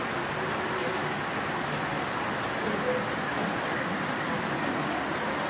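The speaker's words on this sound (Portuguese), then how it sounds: "chuva sem parar" Steady, dense hiss of heavy rain falling on surfaces in Teófilo Otoni, Minas Gerais, Brazil, constant and unbroken throughout, with no voices.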